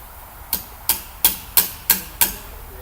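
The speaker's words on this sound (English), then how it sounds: "The hammer isn't heavy enough." Six sharp metallic hammer blows ring out on an engine valve spring during engine repair work, evenly spaced about a third of a second apart, each a loud crisp strike with a short decay, no talking.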